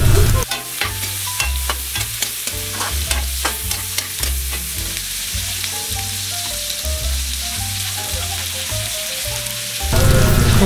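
Garlic, onion and pickled chili sizzle loudly in a hot pan. The frying hiss is steady and close, broken by repeated scraping strokes of stirring, with a low background drone running underneath.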